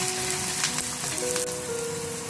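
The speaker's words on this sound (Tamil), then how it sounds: "இப்போ நான் வட்டி வச்சுக்கிற 2 வெங்காயத்தை போட்டு தாளிக்க போறேன்." Two onions sizzling in hot oil for a Sri Lankan shrimp curry, a steady dense hiss of frying with faint crackles and a few tonal hums over it, no talk.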